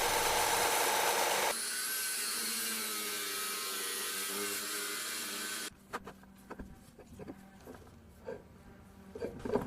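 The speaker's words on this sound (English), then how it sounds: "This piece is now small enough to fit into the bandsaw, which helps cutting out this chunk on top here." A bandsaw cuts a chunk off a metal workpiece being roughed out for a lathe-machined belt pulley, a steady loud whine for several seconds that then stops, leaving quieter workshop clatter.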